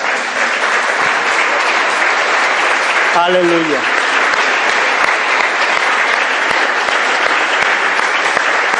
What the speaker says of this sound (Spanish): ¿Cuánto le damos un aplauso a Él?